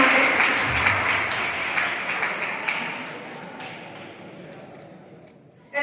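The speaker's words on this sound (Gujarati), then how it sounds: "એકવાર જોરદાર તાળીઓ થઈ જાય" Loud crowd applause at a public gathering in Viramgam, a dense wash of clapping that fades gradually over several seconds, with some voices mixed in.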